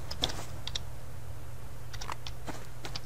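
Computer keyboard keys typed in short bursts of clicks during a Subsistence survival game session, close and fairly quiet, over a steady low hum with no talking.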